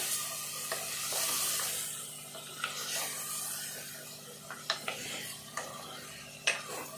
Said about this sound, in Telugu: ఇట్లా అంతా మంచిగా నూనెలో కొద్దిసేపు ఇదంతా కూడా వేగాలి